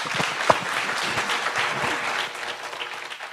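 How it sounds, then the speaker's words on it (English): Summit attendees applaud a speaker: a sustained wash of many hands clapping across the room, easing slightly toward the end. "A round of applause for him."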